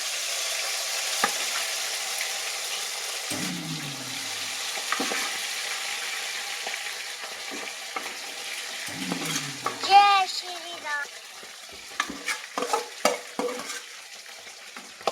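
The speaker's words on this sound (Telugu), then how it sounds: "చికెన్ ఇందులో వేసి డీప్ ఫ్రై చేస్తా చికెన్" Chicken pieces deep frying in sunflower oil for a chicken pickle, a continuous close bubbling sizzle with scraping and clattering of a utensil and a few faint voices in the background.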